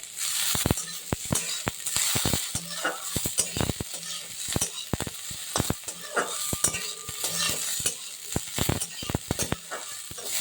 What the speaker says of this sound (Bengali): এইবারে কিশমিশগুলো দিই। খুব হালকা করে নেড়ে নেব।